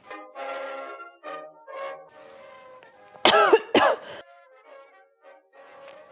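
A person coughs twice in quick, harsh bursts, loud and close, while busy with sewing needles on a costume, with a humming or moaning voice before and after.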